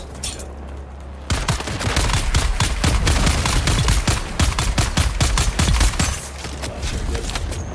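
Sustained gunfire in the game Dune Awakening, a loud fusillade of rapid automatic shots that begins abruptly and continues densely to the end.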